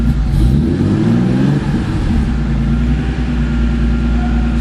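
A cold car engine, just started after extra cranking, revs loudly and steadily at close range with a deep continuous drone; a rise and fall in pitch partway through, no voices.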